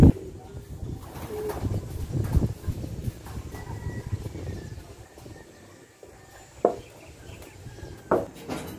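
Racing pigeons coo in a loft during club training, several soft throaty coos near and far over scattered shuffles and knocks, with occasional sharper calls and quiet background voices.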